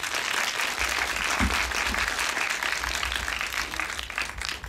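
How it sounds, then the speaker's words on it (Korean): A cinema audience at Busan's Cinema Center gives a dense, continuous round of applause welcoming the cast of Architecture 101 for a stage greeting, loud and steady with no voices over it. "박수로 맞주시기 바랍니다"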